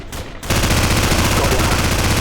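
Rapid automatic gunfire in Call of Duty 4: Modern Warfare, a dense, loud, continuous burst of shots.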